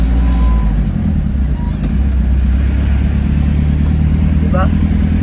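Cars and heavy trucks roll past on a road beside a tall flood control embankment in Dacudao, Davao City, their engines a loud, steady rumble close by, with a brief higher squeal near the end.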